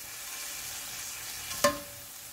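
Shrimp fry in a pan with a soft, steady sizzle, broken by one brief sharp clink of a utensil near the end.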